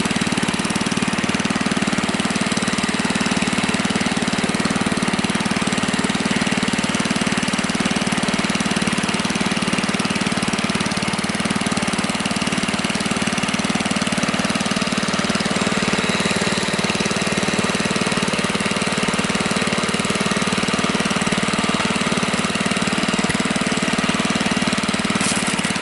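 A Husky engine idles steadily at low RPM with a constant, close, loud mid-pitched drone and no pauses, after fuel-tank blockage trouble.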